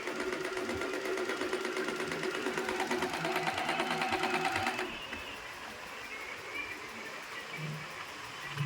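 Usha Janome sewing machine running steadily for about five seconds, a fast rhythmic mechanical stitching chatter up close, then stopping to quiet room tone.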